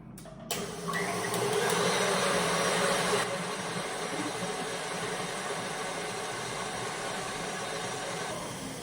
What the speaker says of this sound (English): So I'm just going to mix up the egg whites now to a soft peak before I add my caster sugar in.